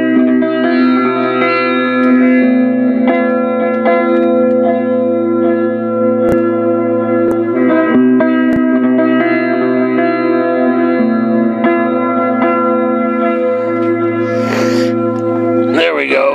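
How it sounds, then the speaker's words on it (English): Electric guitar played through an Albion AG80DFX hybrid amp with its echo effect on, sustained ringing chords and notes trailing into repeating decays, loud and close. "And now I'll turn on the effects, the echo"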